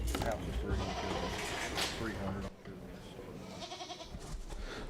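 A purebred Kiko doe brought into the ring at a goat auction sale, bleating a few times amid background voices and crowd murmur.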